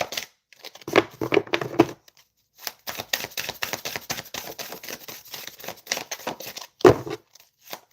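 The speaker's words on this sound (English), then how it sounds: "I didn't know I could shuffle that fast." Rapid card shuffling at close range: crisp papery riffles and clattering bursts in quick runs, with a brief pause before a longer flurry and a final sharp snap near the end.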